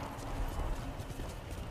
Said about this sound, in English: I know this horse got hops though